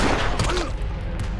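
A quick burst of loud gunfire, several overlapping shots packed into little more than a second.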